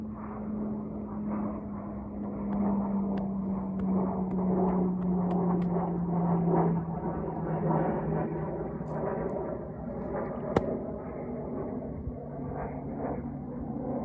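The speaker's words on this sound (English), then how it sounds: "I'll wait for just a bit here for the noise of the airplane" A low-flying airplane passes directly overhead above an open field, its steady propeller-engine roar loud and continuous, slowly sliding down in pitch as it goes by, with no talking.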